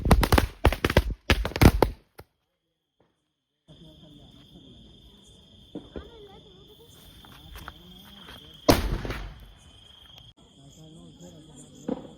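Diwali firecrackers go off in a village: a quick cluster of sharp, loud pops, a lull, then one more blast later over a steady high insect-like whine and faint background activity.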